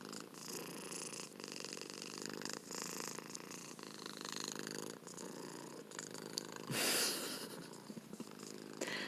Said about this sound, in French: Un peu de ronronnement en prime.